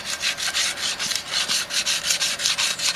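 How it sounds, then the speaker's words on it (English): Sandpaper is rubbed by hand against a dirty, rough tire rim in quick back-and-forth strokes, a close, rhythmic scratchy rasp with no talking. "hit this with a little sandpaper here"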